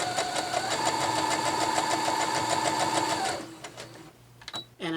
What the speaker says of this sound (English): I'm going to do a seam 1/4 inch to the left, and then a seam 1/4 inch to the right